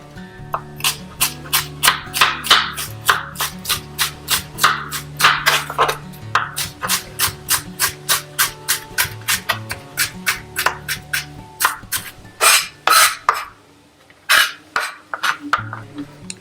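A knife chops bitter gourds on a board with a quick, steady run of crisp, close cuts, briefly pausing and then continuing, with no talking.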